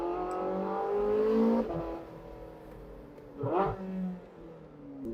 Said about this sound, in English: Oh, you can't beat a V8. Oh, and that power!